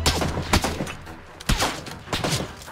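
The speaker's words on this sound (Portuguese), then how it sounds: "Estão atirando nele, por isso que o tiro tá tão perto" Rapid bursts of PUBG video game gunfire crack repeatedly, close and loud, with several volleys separated by short gaps.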